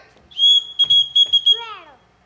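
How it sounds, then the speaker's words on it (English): A sharp, piercing whistle rings out in a long blast, then a run of short clipped toots and a falling swoop, loud and close, blown to call a household's children. "Everyone in the house answers to a whistle."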